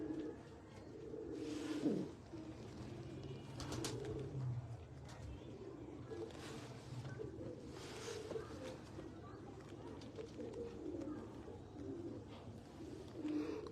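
A large Teddy pigeon, a breeder bird in a loft, coos in low rolling phrases among other birds, with some talk nearby and a steady background hum.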